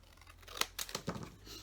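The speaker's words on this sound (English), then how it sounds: "I can cut this down to make it a little smaller" Scissors snip through a small paper tag, a few sharp close cuts in quick succession with light paper rustle between them, no voices.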